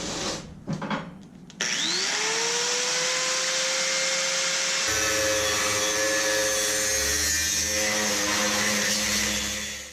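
Metal pieces for a welding cart being cut at 45 degrees with a power saw: a few clanks, then a rising whine as the blade spins up and a sustained loud cutting drone.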